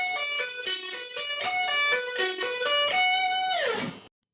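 An electric guitar plays a fast sweep-picked arpeggio in triplet groupings, clean, bright repeated note clusters stepping through a shape, ending on a sustained note that bends down and stops.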